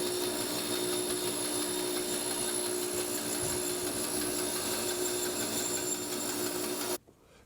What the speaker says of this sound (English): Let's cut the outside edge of the wooden donut. We're going to use a bandsaw